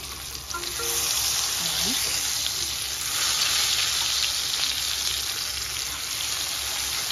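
Chicken pieces in batter fry in a pan, giving a loud, steady, hissing sizzle that continues without a break, with a person speaking briefly over it.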